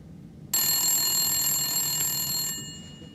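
A telephone ringing at an event, one sustained bright electronic ring lasting about two seconds that starts abruptly and fades out, heard alone over a quiet room hum.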